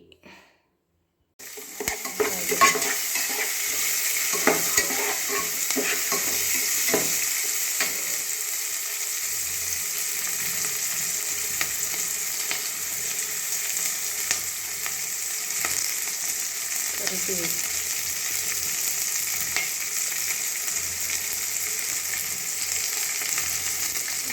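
A chicken curry tempering of onion, capsicum, mint, coriander, curry leaves and half a tomato, cooked village or Karnataka style, hits hot oil and breaks into a loud, steady sizzle. Occasional stirring clinks sound through the frying.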